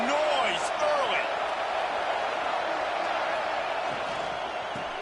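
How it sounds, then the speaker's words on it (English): Stadium crowd noise from the College Football 26 video game during an Arkansas vs LSU matchup, a steady broad roar continuing throughout under a commentator's voice. "This crowd bringing the energy and noise early."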